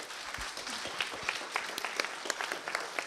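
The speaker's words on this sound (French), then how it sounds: "Applaudissez-les, s'il vous plaît." A room of students claps for fellow students at a university institute event in Troyes, brisk and fairly close, with a few louder individual claps standing out near the end.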